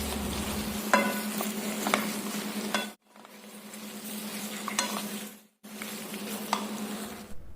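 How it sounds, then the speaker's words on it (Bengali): Cut okra stirred and frying in hot oil in a wok: a steady close sizzle with scraping stir strokes, broken by two brief silent gaps. "ওই তেলের মধ্যেই দিয়ে দিলাম ধুয়ে কেটে রেখেছিলাম যে ভেন্ডিগুলোর মধ্যে দিয়ে দিয়েছি, দিয়ে একটু নাড়াচাড়া করে নিচ্ছি।"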